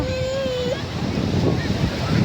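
Sea waves washing on a beach as the tide recedes, a steady close roar of surf with wind buffeting the microphone throughout.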